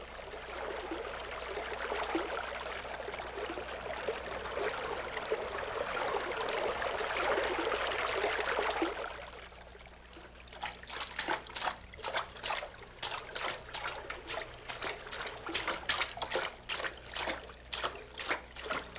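Water pours from the 108 spouts at the Muktinath shrine in Nepal as a steady, rushing trickle. It then gives way to rhythmic splashing and dribbling, with no voices present.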